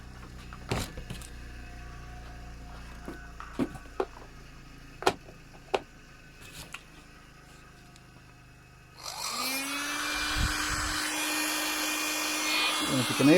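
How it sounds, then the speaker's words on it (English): An electric hot air gun, part of a power-tool haul bought at a local auction, switches on partway through and runs with a steady, loud whirring blower roar, preceded by scattered handling clicks and knocks. "I think we'll plug in the hot air gun next."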